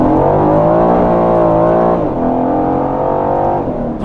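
Aston Martin Vantage F1 Edition engine roaring steadily on a race track, a loud, continuous sustained drone with rising and falling pitch and a brief dip in the middle, no talking.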